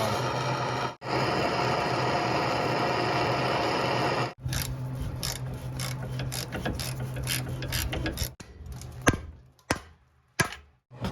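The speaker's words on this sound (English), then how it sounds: "So next we're going to be removing the sway bar link here." A rusted sway bar link nut is worked loose on a Jeep TJ. First there is a long, continuous mechanical grinding and buzzing, like a powered tool. Then come scraping and rattling, with a few sharp metallic knocks near the end.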